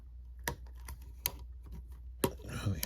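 Scissors snip excess string in a series of sharp, close clicks at an irregular pace over a low background hum, with one louder snap near the end.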